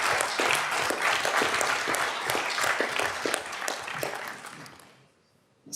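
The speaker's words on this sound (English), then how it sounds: "I think they deserve a round of applause" A crowd applauds with steady, dense clapping for about five seconds before it fades out.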